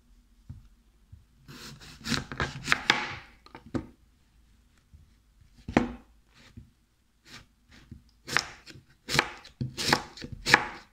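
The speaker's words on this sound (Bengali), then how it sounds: "এরকম ভাবে আমরা 5টা আপেল কেটে নেব" Knife chopping apples on a cutting board: bursts of quick sharp chops separated by pauses, close and clear, with no talking.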